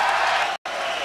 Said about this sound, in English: Rousing cheer for Mike Tyson